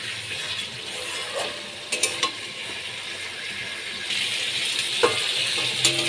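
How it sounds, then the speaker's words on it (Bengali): Fasha fish sautés in a pan with kalonji for a spicy fish jhal, a continuous sizzle broken by several sharp clinks and scrapes of a utensil stirring against the metal. "মাছগুলো আমি ভালো করে কষিয়ে নিচ্ছি"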